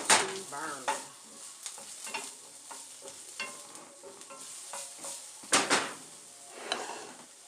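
Garlic cloves frying and sizzling in a pan, stirred with a utensil that makes clinks and scrapes, plus occasional louder clatters of cookware, close up with no talking.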